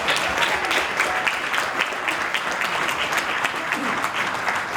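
Steady applause from a banquet audience at a Lunar New Year hospital foundation dinner, a dense, even wash of clapping that holds for about five seconds.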